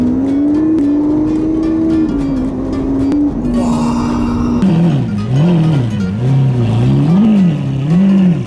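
A Lamborghini Aventador's engine revs loudly nearby, climbing steadily, then roaring up and down in quick surges as it accelerates.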